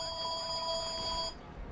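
A telephone rings with a steady electronic tone, loud and close for over a second before cutting off abruptly, leaving faint background noise.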